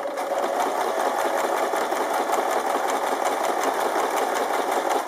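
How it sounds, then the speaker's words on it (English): A sewing machine runs continuously at a fast, even clatter while stitching a bias seam, close and steady, with no talking. "So we sew as we would on a normal bias seam."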